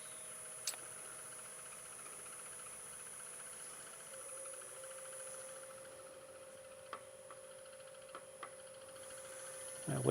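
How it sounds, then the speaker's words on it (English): A wood lathe turning marble and porcelain powder pen blanks runs with a steady mechanical hum and a faint high whine, broken by a few brief clicks and ticks, fairly quiet and heard alone. "That lathe is making some funky noise."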